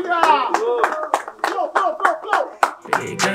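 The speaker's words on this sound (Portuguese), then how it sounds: "Palmas pro Cauê, família!" At a Batalha da Aldeia rap battle, the crowd claps in quick repeated bursts for a contestant while a loud voice shouts over the clapping, close and energetic.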